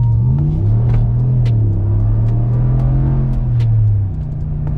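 Engine of a 2020 Ram Rebel pickup truck fitted with a Pedal Commander, a loud, close, deep rumble that swells and holds as the engine revs, then eases off at the end, with no talking.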